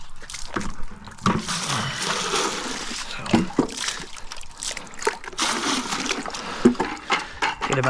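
Water splashing and pouring into a bucket while grouting tile, a continuous close, uneven gush with sloshing surges and small knocks against the bucket.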